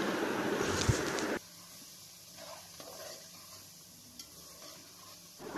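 Chopped chillies, garlic and ginger stirred with vegetables in a pan give a soft, sizzling scrape, loudest at first, then quieter with intermittent stirring noises nearby.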